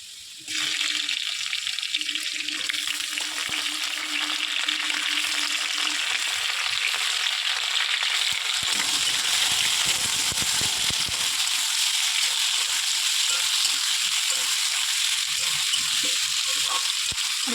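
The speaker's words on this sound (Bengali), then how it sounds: "এর মধ্যে পেঁয়াজ আর টমেটো অ্যাড করে দেবো।" Frying potatoes with onion and tomato added to the pan: a quieter sizzle bursts into a louder, fuller hiss as the vegetables drop in, then settles with intermittent stirring scrapes.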